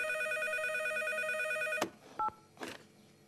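A cartoon telephone rings with a loud, continuous electronic trill, then cuts off abruptly, followed by a brief beep and a short clatter as the receiver is handled.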